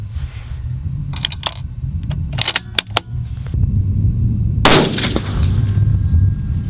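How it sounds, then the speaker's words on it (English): Several sharp, loud rifle shots from a Bergara Wilderness Sierra 7 PRC fired with Hornady factory CX ammunition, close to the microphone, spaced unevenly among handling noise and outdoor background. "Let's see how shot number 3 goes."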